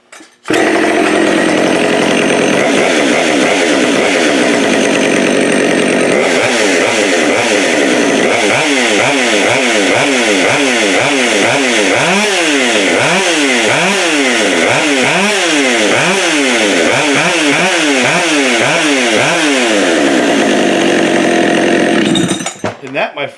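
A Husqvarna 572xp chainsaw with a modified muffler runs loud and close, revving repeatedly in rapid rising and falling bursts throughout, with no talk.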